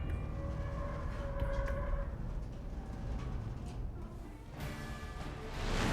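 A train rumbles through a scene in the Final Fantasy VII Remake video game, a loud, steady rolling roar with clanking and a sharp metallic screech near the end.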